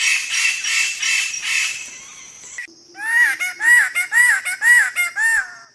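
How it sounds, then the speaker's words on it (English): Wallace's standardwing, a bird-of-paradise of the Halmahera forests in Indonesia's Maluku Islands, calls in a run of loud, harsh nasal honks repeated in a quick rhythm, close and alone, after an opening stretch of dense, buzzy chatter. "This is Wallace's standard wing"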